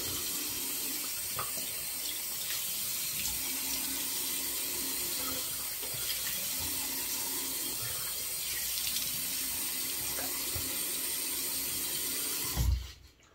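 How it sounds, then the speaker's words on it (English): Water runs steadily from a tap as something is rinsed off under it, a close, continuous splashing wash with no talking, ending in a brief thump. "now I think we could just about rinse this off"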